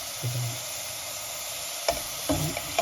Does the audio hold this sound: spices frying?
yes